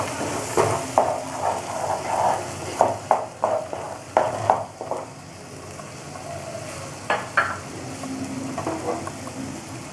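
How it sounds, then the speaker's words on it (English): Tomato puree is stirred into a fish kofta curry in a pan, with a series of soft scraping strokes over a gentle sizzle and some quieter stretches between them. "Mix it properly."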